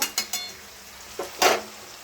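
Spices frying and being stirred in a pan with bay leaf, whole garam masala and onion for a meat curry: a few short scraping stirs, then a louder sizzling burst near the end, no talk.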